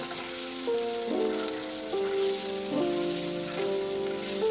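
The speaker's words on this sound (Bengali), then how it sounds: "এমনিতেই আমি তেলে দিয়ে হালকা করে ভেজে নেব" Tomatoes frying gently in oil in a pan, a soft, even sizzle running throughout, with a faint tonal hum shifting in the background and no voices.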